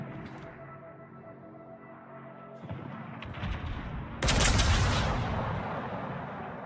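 Naval guns fire in a World of Warships battle, a loud burst of booming shots building to a heavy salvo, with no talk.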